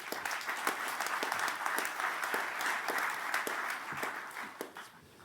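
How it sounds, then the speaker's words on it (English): An audience at a corporate treasury panel event claps warmly for the panelists, with steady, moderately loud applause that fades slightly toward the end. "Please give them a warm applause."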